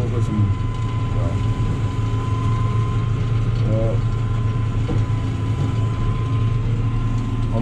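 A Heizohack wood chipper driven by a John Deere 6250R tractor runs steadily at lowered engine speed, a loud continuous mechanical drone with rattling and clunks throughout, a voice speaking over it.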